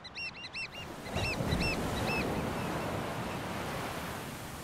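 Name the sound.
powerful ocean waves breaking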